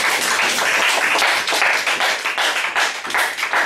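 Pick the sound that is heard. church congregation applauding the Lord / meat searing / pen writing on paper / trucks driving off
church congregation applauding the Lord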